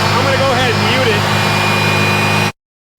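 Loud, steady engine roar from an Odes 1000 X4 LT UTV running close by, with voices mixed in, cutting off abruptly after about two and a half seconds.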